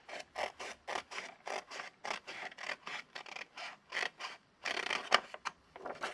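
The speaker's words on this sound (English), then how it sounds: "And I will cut here." Scissors with short handles cut paper for a recycled journal in a run of quick, close, crisp snips, about a dozen in a steady rhythm with brief pauses and no talking.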